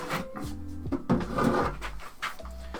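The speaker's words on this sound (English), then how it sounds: "we're going to remove these two drawers." Drawers slide and scrape out of an upcycled MDF unit, a woody rubbing and knocking over a few seconds, close and fairly quiet, with no talk.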